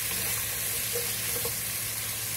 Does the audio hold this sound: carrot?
yes